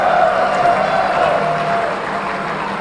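A crowd applauds performers after a Ganapati dance at an entertainment program, a dense, continuous wash of clapping that holds steady and eases slightly toward the end.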